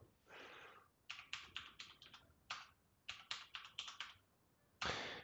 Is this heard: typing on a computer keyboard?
yes